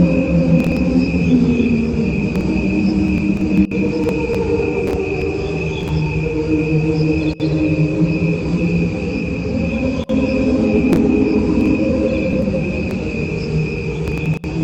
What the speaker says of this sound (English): I'm hearing the crickets